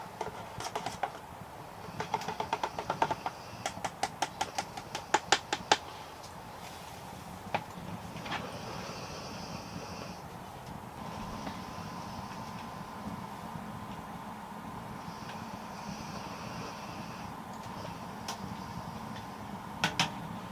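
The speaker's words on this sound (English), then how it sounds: "I keep hearing like big tree knocks." Sharp knocks on trees in the woods at night, a cluster of quick hollow clacks early on, then isolated distant knocks spaced apart over a quiet steady nighttime hum.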